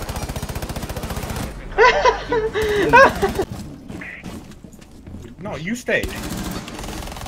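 Hip-fired gunfire in a first-person shooter video game, a loud rapid burst of shots at the start, followed by scattered bangs and impacts mixed with voices talking over the action.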